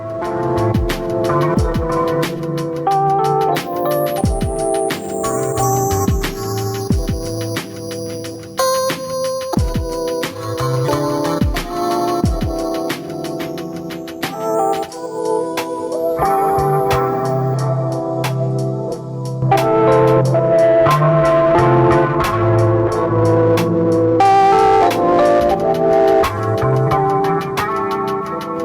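Warm, saturated music with a gritty, driven cassette-simulation tape distortion, steady and full throughout, growing denser and brighter in the latter half.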